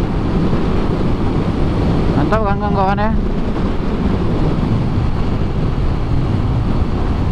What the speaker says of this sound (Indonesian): Tapi angin sangat kencang sini.